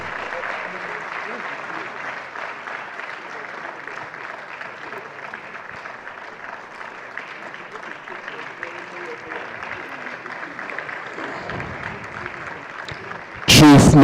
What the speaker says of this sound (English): If you are clapping for her, you can do better, please.